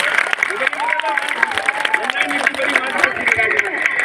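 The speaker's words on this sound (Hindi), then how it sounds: "एक बार जोरदार तालियां।" An audience at a Hindu community gathering bursts into loud applause while a voice keeps speaking over the clapping throughout.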